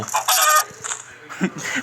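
Several short, sharp clucks from a chicken in the Minecraft video game come in quick bursts, loud and close.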